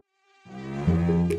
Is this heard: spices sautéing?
no